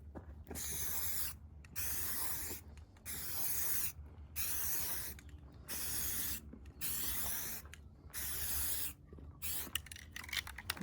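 Short bursts of flat khaki spray paint hiss from a can onto a rifle for camouflage, about nine evenly spaced sprays with brief gaps between them, close and fairly loud, with no talking.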